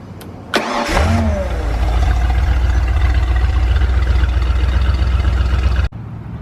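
An inboard Ford marine engine with a newly installed starter cranks briefly, catches and settles into a loud, steady close-up idle for about five seconds before cutting off abruptly.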